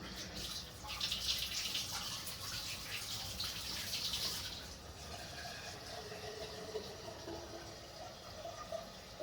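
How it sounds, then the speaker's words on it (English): Water gushes steadily from a tap into a container, a bright hissing rush that stops partway, leaving quieter trickling and dripping sounds. "Need more water, so I'll just refill for another one."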